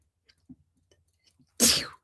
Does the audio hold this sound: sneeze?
yes